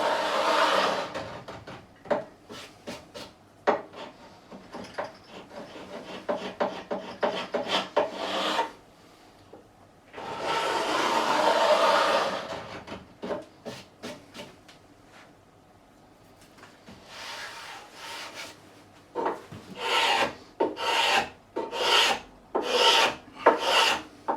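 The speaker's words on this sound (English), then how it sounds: "basically we're just going to scrape the old glue away" Old glue being scraped away with a hand scraper: long runs of close, rasping back-and-forth strokes, a pause, then a sustained scrape, ending in short, sharp repeated strokes, with no talking.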